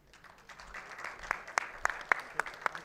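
Scattered audience applause at a business panel event, a handful of separate claps rising in sparse rhythm, fairly close but thin, as if from a small crowd.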